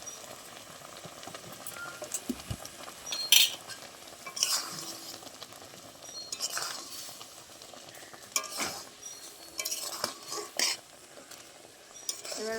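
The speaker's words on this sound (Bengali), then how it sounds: "এভাবে নেড়ে নেড়ে ভালো করে শুকিয়ে নেব" Raw mango pickle being stirred with ground spices in a kitchen, giving soft intermittent scraping and clinking of a utensil against the pot, moderately quiet and close, with no talking.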